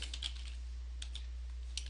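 Computer keyboard typing comes in a few quick bursts of close, light key clicks, separated by pauses, over a steady low electrical hum.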